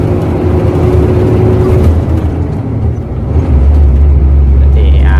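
Hino 500 truck loaded with coal accelerating in gear on the road, a loud sustained engine drone that deepens and swells midway, with a brief whine near the end.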